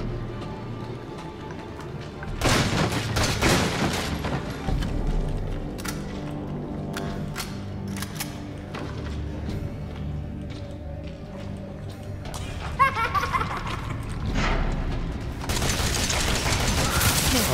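Heavy weapon fire in Resident Evil 7's salt mine, with booming grenade-launcher shots ringing out in bursts over a thick, rumbling game soundscape, loud and close with sharp blasts near the start and end.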